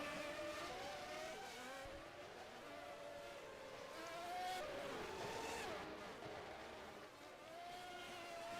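Race cars with engines including a Honda V12 power-slide around Hockenheim in P4OW Manager, tyres skidding and engines wailing in rising and falling whines as cars sweep past in close succession.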